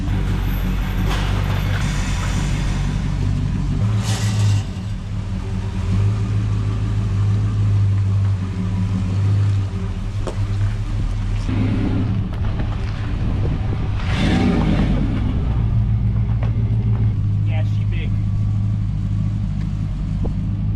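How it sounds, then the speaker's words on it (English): A modified car with freshly clearanced fenders and leaking brake line fittings drives on a test run, its engine rumbling steadily inside the cabin with mechanical rattles and clunks throughout, close and loud with no talking. "We're gonna go ahead, take this thing for a test drive."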